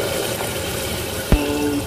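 Water poured into a pressure cooker during home cooking, a soft running splash under a low room hum, with a sharp knock partway through followed by a brief tonal ring.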